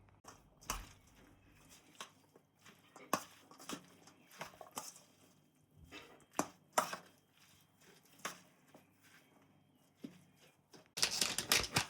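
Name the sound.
mixing cucumber salad ingredients with coriander leaves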